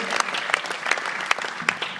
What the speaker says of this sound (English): Give her a hand.